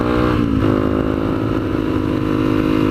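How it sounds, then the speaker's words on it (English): Honda CRF 250L dual-sport motorcycle engine running steadily up close, a loud continuous buzzing drone with a slight rise in pitch near the start, with no talk. "This bike is called a Honda CRF 250L."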